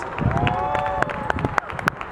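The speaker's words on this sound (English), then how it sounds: "Let's give them a big round of applause, please." Audience applause at an outdoor Tulsa Juneteenth smooth jazz night, a steady wash of clapping and cheering under a speaking voice and tonal music.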